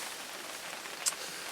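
Rain falls steadily at a Devon fishery, a constant close hiss of drops with one brief sharper tick partway through.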